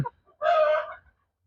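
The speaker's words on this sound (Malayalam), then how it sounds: "നല്ല കാണാൻ ഭംഗിയുള്ള ഒരു കോഴിയാണ്" A single short rooster call, a brief loud squawking cry from close by, then quiet.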